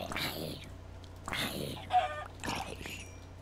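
Chickens cluck in the video game Minecraft: three short bursts of clucking spaced about a second apart, fairly close and clear, with no talking over them.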